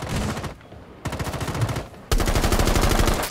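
Rapid automatic gunfire in Rainbow Six: Siege comes in three loud bursts of fast, regular shots, with a short gap between the first and second bursts.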